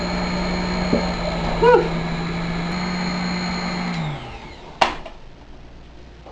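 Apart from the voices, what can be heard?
electric mixer beating cookie dough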